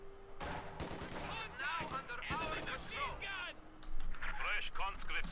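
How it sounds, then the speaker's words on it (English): MG42 machine gun fire in a Company of Heroes 2 battle sounds among scattered gunshots and bursts, with talk running over the combat throughout. "getting out those MG42s. Getting that MG inside the building."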